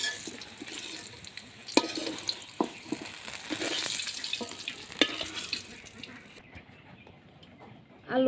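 Potatoes and pointed gourd fry together in hot oil in a pan, a continuous sizzle broken by scrapes and clacks of stirring, close and fairly loud.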